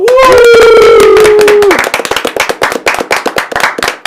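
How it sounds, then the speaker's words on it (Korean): Clapping for the viewers closes a Korean political talk broadcast. A loud, sustained shouted voice comes first, then a dense burst of close, rapid hand claps continues to the end. "자 우리 시청자 여러분을 위해서 박수 드리겠습니다."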